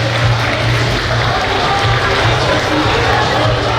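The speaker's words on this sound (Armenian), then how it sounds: "մի հատ բարձր ծափարենք նրանց" Sustained, even applause from a crowd greets honored parents at a joint 15th and 13th birthday celebration, a thick wash of clapping with murmuring voices underneath.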